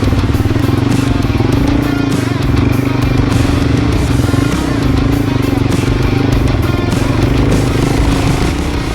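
A Suzuki DRZ400 dual-sport motorcycle riding on the sand at Rainbow Beach, its single-cylinder engine revving and buzzing loudly and continuously close by, with someone talking over it.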